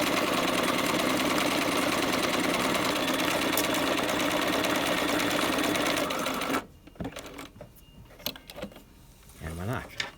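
A sewing machine stitching fabric, a fast steady mechanical whir running loud and close for about six seconds, then stopping, followed by light handling noises and brief talk.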